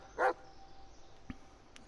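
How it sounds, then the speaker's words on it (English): A dog in the Blair Witch video game gives a single short, sharp bark near the start, followed by faint small sounds against a quiet background. "Yeah, good dog."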